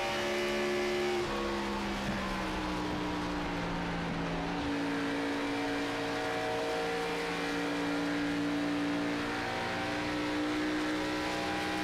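Sim race cars circling Pocono in an online racing series, a steady loud engine drone with sustained tones that slowly slide in pitch as cars hold speed around the track, continuous without pauses.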